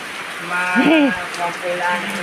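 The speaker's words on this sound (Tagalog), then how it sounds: "At ang lakas po ng ulan." Heavy rain falls outdoors at night, a steady broad hiss running through the whole stretch while a voice talks over it.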